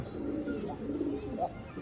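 Pigeons coo softly nearby in a short, low, murmuring stretch with a faint background hum.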